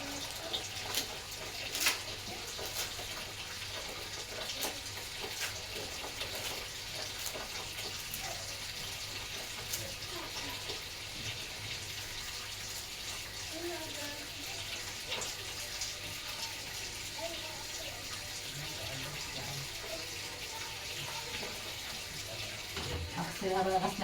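Tap water running steadily over a peeled onion in a kitchen sink, a soft continuous hiss and splash, fairly faint, with light handling noises throughout.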